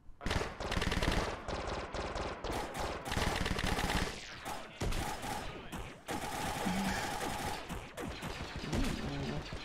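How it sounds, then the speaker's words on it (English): Gunfire from many weapons in a sci-fi modpack video game, rapid bursts and overlapping volleys with sharp cracks and a sweeping zap, loud and continuous. "So many guns, I know, so many noises."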